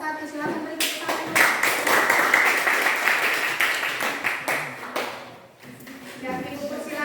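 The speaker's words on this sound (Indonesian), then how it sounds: "Silakan beri tepuk tangan." Classroom applause for a student group after their civics project presentation, a burst of many clapping hands that swells, holds steady for several seconds, then fades out, with voices around it.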